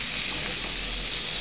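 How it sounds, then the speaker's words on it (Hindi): Potatoes go into spinach frying in a pan, and a steady, loud hiss of oil sizzle runs throughout, close and alone with no voices. "अब इसमें आलू ऐड कीजिए"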